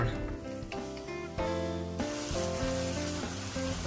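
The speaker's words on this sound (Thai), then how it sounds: "จากนั้นก็ใส่ไส้กรอกลงในกระทะได้เลยนะคะ แล้วก็ผัดส่วนผสมให้เข้ากันค่ะ" Savaloy sausage stir-fried with potatoes and spices in a pan crackles with a moderate sizzle that stays partly under prominent background music throughout.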